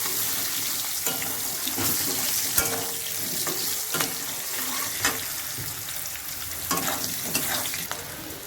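Potatoes sautéing in a pan for a silver carp fish curry, steady sizzling with repeated stirring scrapes and clanks, no talk.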